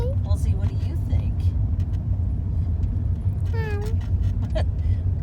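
Meows from Mosey, a black cat, rise over the steady low rumble of a running car, a short cry early and a clearer drawn-out call midway, while people talk nearby.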